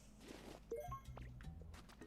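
A Pokemon's Water Gun attack in Pokemon Pokopia, heard as faint, soft liquid splashes and drips with a few small squishy pops, quiet and close.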